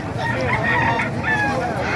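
Chickens cluck and crow close by at a chicken market in Calumpit, Bulacan, with bird calls layered over a steady background murmur and some talk underneath.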